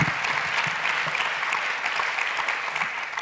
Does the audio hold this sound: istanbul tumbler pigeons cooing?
no